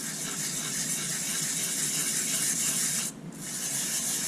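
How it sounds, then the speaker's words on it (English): A rocket nosecone tube being rubbed with 120 grit sandpaper, a steady close rasping hiss that runs continuously with one brief pause near the end before resuming. "It turns out an easy way to do that is just to take a piece of sandpaper. This is 120 grit."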